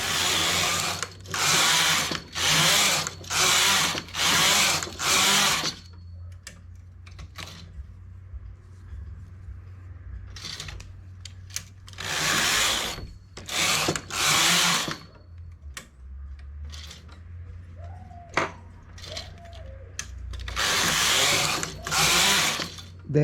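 A knitting machine knits striped rows for a child's panties, the carriage sweeping back and forth in loud rhythmic bursts of whirring and clacking, separated by quiet pauses with faint handling noises.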